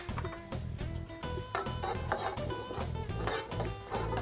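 Garlic and cumin stirred in a pan over eggplant, a spoon scraping and clinking against the metal in a steady rhythm with a soft sizzle beneath, close and moderately loud, no talking.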